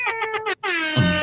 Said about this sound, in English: I always forget the air horn